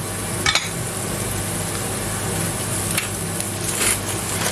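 Onions fry over high heat in a pan with a constant, close sizzle, broken by a few brief stirring scrapes and clicks, and no talking.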